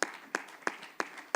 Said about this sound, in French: nous pouvons bien l'applaudir